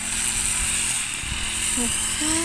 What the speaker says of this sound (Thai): สุดยอดเลยเนาะเครื่องตัดหญ้ามาจากฝั่งไทยเลยเนาะ